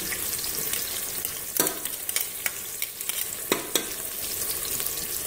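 Onions frying in a pot for a mutton and bitter gourd curry, a steady close sizzle broken by a few sharp scrapes and clatters of stirring.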